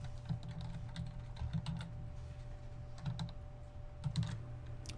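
Typing on a computer keyboard to enter a username into a data entry field, with soft irregular keystroke clusters over a steady low hum, fairly faint and without talk.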